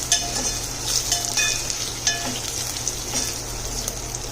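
Green chilies roasting in a pan with a moderate steady sizzle, punctuated by light metallic clinks and scrapes of a utensil stirring them, no talking.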